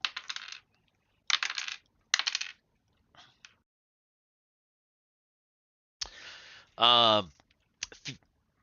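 Dice rolled across a table during a live Dungeons & Dragons tabletop game: several separate close rattling rolls with short pauses between them, followed by a brief voice near the end.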